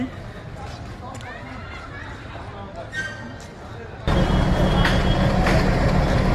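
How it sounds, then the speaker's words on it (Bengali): Busy railway station ambience with people talking and a steady rumbling hum that grows louder and denser partway through. "রেল স্টেশনে"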